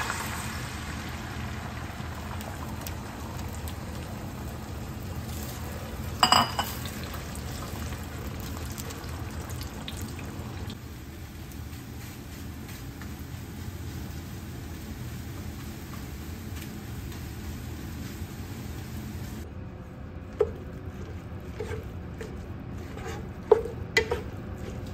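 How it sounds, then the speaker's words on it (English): Scrambled eggs cook in about a tablespoon of bacon grease in a pan, a faint, even sizzle running throughout, broken by a few sharp utensil clinks against the pan. "I got about a tablespoon of bacon grease there that I'm gonna cook them in"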